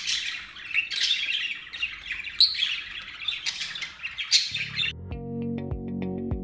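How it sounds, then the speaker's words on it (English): Pet budgie parakeets squawk and chirp in a dense, continuous stream of harsh calls and tweets close by, with no talking, cut off near the end by a short synthetic tone. "I can't lie and say they don't make noise, but it is adorable"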